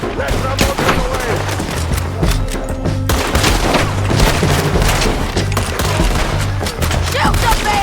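Dense video game shootout with sustained gunfire, bursts of rapid shots and booming blasts layered over a steady low engine-like drone, loud and continuous throughout.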